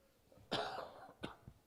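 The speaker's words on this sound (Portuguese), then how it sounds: "E a tosse hoje está difícil" A single harsh cough up close, followed by a couple of smaller coughs or throat-clearing sounds in an otherwise quiet room.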